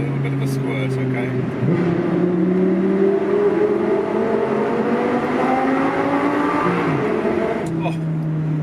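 An Audi R8 with a V10 engine revs up loudly and steadily, its rising harmonic whine building over several seconds before dropping back near the end.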